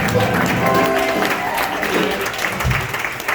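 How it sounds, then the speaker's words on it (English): Big band concert audience claps for a female singer as she walks off stage, a continuous broad patter of applause with faint instrumental tones sounding underneath. "Give her a nice round of applause."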